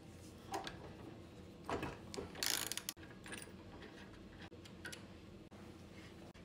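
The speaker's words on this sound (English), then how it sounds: "Use a socket wrench for the nut." Socket wrench ratcheting on a nut while servicing a Juki LU-563 industrial walking foot sewing machine, giving close, quick ticking clicks in short bursts with a brief louder metallic rattle.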